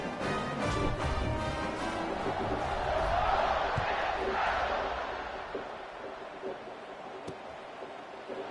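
Football stadium crowd at an Ole Miss vs Texas game roaring as the kickoff begins: a dense, sustained wash of cheering and shouting that swells, then eases slightly, broad and distant-sounding throughout.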